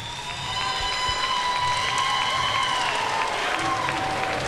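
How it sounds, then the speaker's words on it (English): A crowd at an MMA cage fight event applauds the promoters with steady, sustained clapping that holds throughout, with some cheering mixed in. "I'd like a big round of applause for Capital City"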